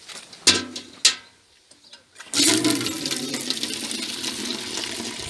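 Water running from a tap, preceded by a couple of sharp knocks, then a steady rushing stream that continues close and fairly loud to the end.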